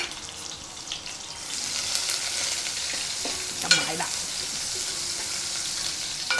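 Chopped onion sizzles steadily in a hot pan for a chicken curry, with a brief spoon clatter midway and a continuous crackling hiss throughout.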